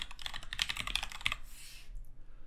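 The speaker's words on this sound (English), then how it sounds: "we're just going to type in CloudFormation" Quick run of keystrokes on a computer keyboard, close and clear, a rapid burst of clicks that stops after about a second and a half, followed by quiet.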